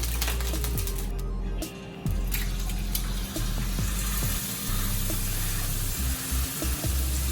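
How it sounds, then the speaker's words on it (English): Water drops hit a hot pan that is being heated to cook a wagyu steak sandwich, giving a crackling, hissing sizzle with small sharp pops throughout, close and fairly loud. "That sizzle."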